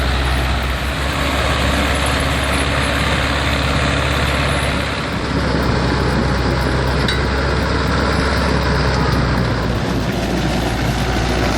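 A heavy diesel engine rumbles continuously at a steady idle, loud and close, with a deep low throb and no talking.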